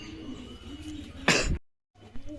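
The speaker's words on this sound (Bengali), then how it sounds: "চলুন আমার খোপের কবুতরগুলোকে দেখায় তোমাদেরকে" Pigeons coo softly in a loft, a low murmuring under a brief louder rustle or burst before a short gap of silence.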